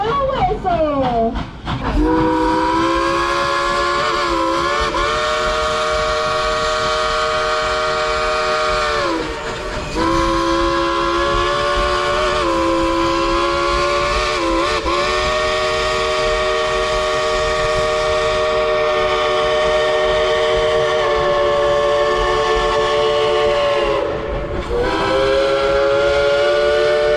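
The Dollywood steam train in Pigeon Forge, Tennessee sounds its steam whistle in one loud, close, sustained blast lasting nearly half a minute, briefly dipping in pitch a few times.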